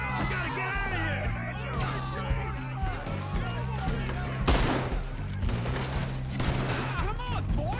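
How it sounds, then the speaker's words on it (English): Rapid bursts of gunfire crack through a Red Dead Redemption 2 shootout, volleys of shots mixed with men yelling and urgent shouted talk, with a heavy cluster of blasts near the middle. "Shoot that man!"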